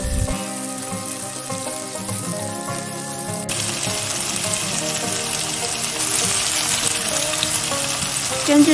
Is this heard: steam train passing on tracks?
no